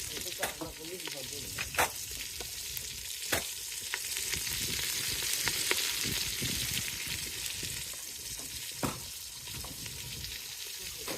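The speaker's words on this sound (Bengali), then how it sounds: "গরম তেলে আলু কাঁচা জাল দিয়েই একটু কষিয়ে নিচ্ছি।" Raw potatoes sauté in hot oil, a continuous close sizzle broken by scattered scraping clicks of a utensil stirring the pan.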